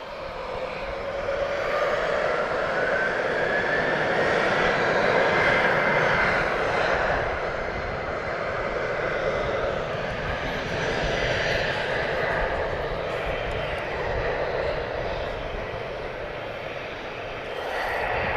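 A high-flying aircraft passes over Lisbon Airport, its broad engine roar loud and steady throughout, swelling slightly mid-pass before holding on.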